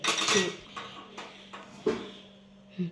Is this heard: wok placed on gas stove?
yes